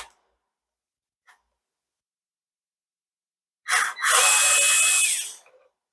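Short burst of a small power driver whirring as screws come out of a Dyson V8 cordless vacuum, close and loud for about two seconds after near silence and a couple of faint taps.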